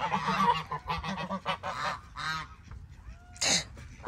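Several geese honk loudly in quick succession, close by and alone, the calls coming in rough bursts with a sharper, higher squawk near the end.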